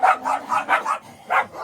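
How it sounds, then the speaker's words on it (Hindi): Dogs bark in a village, with five or six loud, close barks in quick succession, a short pause, then another bark, sounding like dogs squabbling. "ये कुत्तों को चुप कराओ तो पहले।"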